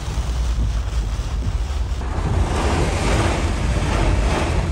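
Strong storm wind, the kind that bends trees and topples power poles, roars and gusts loudly and continuously in a dense broadband rush, with possible heavy rain mixed into the wash of noise.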